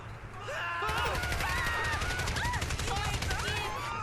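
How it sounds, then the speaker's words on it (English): Bursts of rapid gunfire from a shooter in GTA V, a dense crackling volley close by, mixed with game sounds. "So there you go. Shooter's firing."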